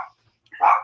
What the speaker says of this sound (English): It's always the smallest one that does the most barking.